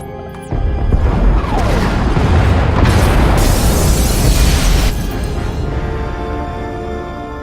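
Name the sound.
pod bays exploding in the video game SWTOR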